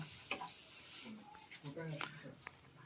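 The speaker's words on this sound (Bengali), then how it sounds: "আদাটা দিয়ে একটু ভালোভাবে নেড়ে দেবো।" Grated ginger being stirred in a hot frying pan while making paneer chop, soft scraping stir strokes and a light sizzle, fairly quiet, with a voice talking over parts of it.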